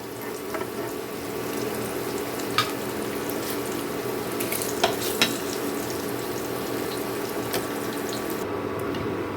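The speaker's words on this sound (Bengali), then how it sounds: "পনিরগুলো আমার ভাজা হয়ে গেছে। এখন আমি পনিরগুলোকে সব এক এক করে তুলে নেব।" Paneer pieces frying in hot oil for a vegetarian biryani, a steady close hiss of sizzling with scattered sharp pops and crackles running throughout, no voices.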